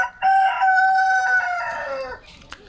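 A rooster crows once, loud and close, a long drawn-out call lasting about two seconds, followed by quiet, at a chicken coop.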